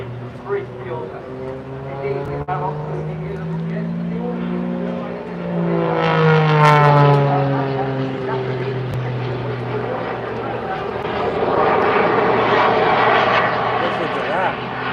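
A small fighter aircraft flies past at the Blackpool Airshow, its engine drone rising to a loud pass with a clear pitch sweep and then fading, while a voice talks over the roar.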